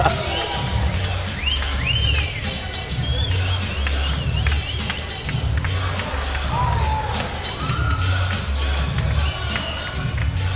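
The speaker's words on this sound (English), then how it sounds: "Hearing whistles from the crowd." Shrill whistles rise and slide above a steady, dense crowd roar and babble at a high school basketball game between Pitt Meadows and Scots College, with scattered cheers and taps running throughout.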